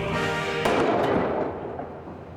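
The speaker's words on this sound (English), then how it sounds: "Those Chinese firecrackers pack quite a wallop." Chinese firecrackers detonate behind blast screens during a Titanic myth test, one sharp, loud blast followed by a long crackling, rumbling decay with no voices.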